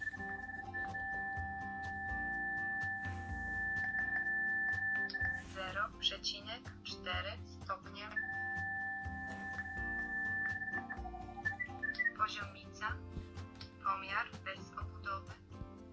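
Steady electronic beeping tones from a digital spirit level on a talking tape measure for blind users, changing with its tilt, holding a pitch then shifting, with a voice talking over parts of it in between.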